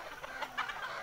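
Sonali-breed desi chickens cluck faintly on a free-range poultry farm, a few soft, quick clucks heard alone at a distance.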